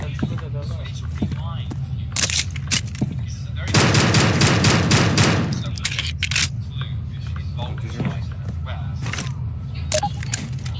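Rapid SMG fire in a video game, a dense automatic burst of about two seconds, loud and close, with scattered single clicks and shots around it over a steady low hum.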